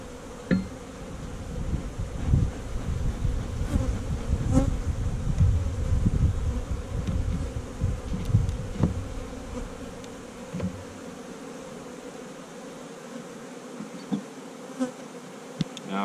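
Dense swarm of honey bees droning around an open hive, a steady layered buzz close to the microphone for most of the stretch, thinning out and growing quieter near the end with individual bees passing by.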